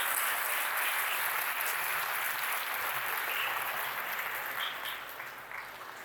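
Applause from a ceremony audience at the inauguration of a sports complex, a steady patter of many hands that gradually thins and fades toward the end.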